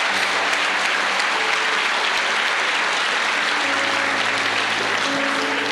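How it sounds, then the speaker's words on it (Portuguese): Congregation at a Sunday communion service applauds in a loud, sustained, dense wash of clapping, with low sustained tones, like organ or keyboard, and a musical note rising underneath partway through. "Dá uma forte salva de palmas ao Senhor"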